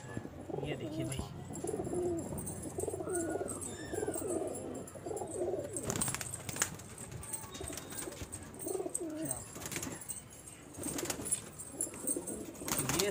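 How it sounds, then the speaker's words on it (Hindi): Soft, low Deobandi pigeon cooing repeats in a busy setting, with rustling and a few sharp knocks in the background. "ये सारे देवबंदी कबूतर"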